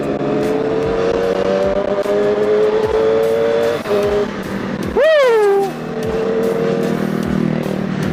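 A Kawasaki ZX25RR 250 cc four-cylinder sport bike revs hard on the road, its engine note climbing through the gears with one sharp high-pitched rev spike and quick-shift changes, loud and close.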